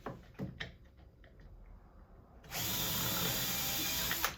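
Power drill boring a pilot hole about three-quarters of an inch into a wooden kitchen cabinet door, heard after scattered small handling knocks as a steady, loud, continuous whir lasting about two seconds, close by with no talk.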